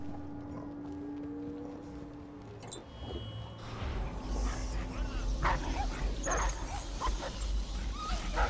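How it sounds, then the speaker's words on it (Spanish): Dogs bark and yip in the Dishonored video game amid busy game noise, with footsteps, a rising tone and other effects layered over the barking. "Otro perro, tío."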